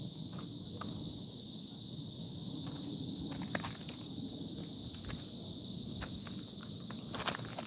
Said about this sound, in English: back over here in the trees, it's just those big old beetles, cicadas, I think, going crazy